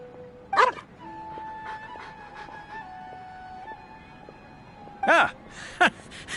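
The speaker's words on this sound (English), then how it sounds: "What a well-behaved doggy." Swoof, a dog in Genshin Impact, gives a few short yips and barks alongside soft whimpers, with gentle background music playing throughout.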